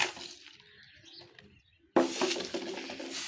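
Soft, low pigeon coos repeat quietly for a moment, then a sudden burst of broadband noise cuts in and continues.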